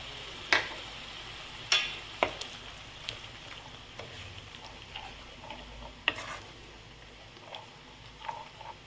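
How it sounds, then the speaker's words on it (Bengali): Masala with fried onion, garlic and green chili being stirred and sautéed in a pan, with a soft steady sizzle and several sharp scraping clinks of a spoon against the pan, fairly quiet. "এবারে আমি পুরো মশলাটাকে ভালো করে কষিয়ে নেব।"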